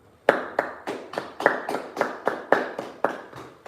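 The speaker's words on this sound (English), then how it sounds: "All right, clap it up." A congregation at a Sabbath service claps in unison, about a dozen crisp, evenly spaced group claps at a steady brisk tempo, fairly close and loud.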